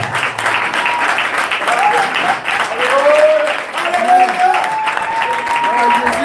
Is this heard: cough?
no